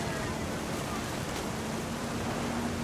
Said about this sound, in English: look at them waves out there